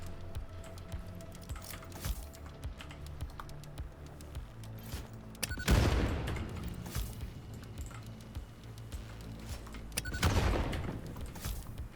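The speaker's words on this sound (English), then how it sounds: "Using explosions is so much easier" Explosions go off in the factory-building game Satisfactory, used to clear trees: two heavy booms stand out against a low, steady background of game ambience and scattered clicks, fairly faint overall.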